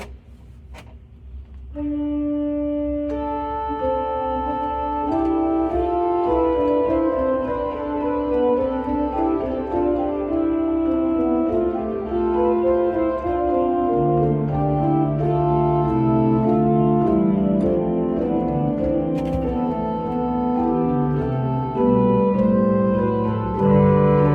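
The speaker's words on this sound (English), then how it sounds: "to play the cantus firmus in the pedals, of course with 4-foot stop to get it" Pipe organ playing a sustained polyphonic passage with a cantus firmus in the pedals on a 4-foot stop, long held chords overlapping, rich and resonant, steady volume throughout with no voices.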